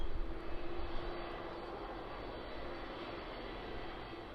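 Airliner taxiing at Birmingham Airport, a steady distant jet engine drone with a slight swell near the start, fairly faint and continuous with no talk.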